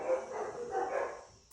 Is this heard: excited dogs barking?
yes